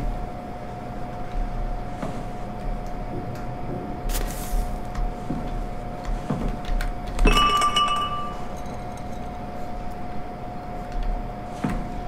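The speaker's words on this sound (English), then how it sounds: "Gotta break the glass to get in." Glass shattering in the horror game Soma, a single bright crash with ringing shards near the middle of the clip, set against a constant low hum and faint ambient noise.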